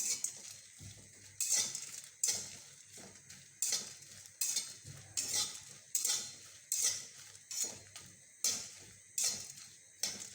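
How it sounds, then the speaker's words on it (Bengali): Dried red chillies are stirred in a hot kadai, giving a regular series of scraping, clinking strokes of a utensil against the pan, close and fairly quiet, with no voices. "লঙ্কাগুলো আমি ভালো করে নাড়াচাড়া করে ভেজে নেব"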